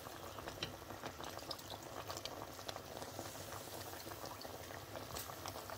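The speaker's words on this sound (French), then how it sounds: "Je couvre et je laisse bien bouillir." Gombo sauce made with dried okra seeds, fish powder, shrimp and dried mushrooms bubbles in a covered pot, a faint steady simmer of small pops and gurgles that continues evenly without speech.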